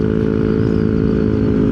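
A Yamaha Nmax Techmax scooter with a YECVT transmission fitted with 1,000 rpm clutch springs revs near its 10,000 RPM limit, giving a loud, steady, close engine drone with no gaps.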